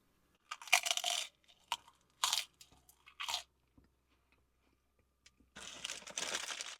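Crunching bites into a prawn chip from a Chinese takeaway meal, several short loud crunches close to the mic separated by quiet pauses, ending in a longer crunchy chewing burst.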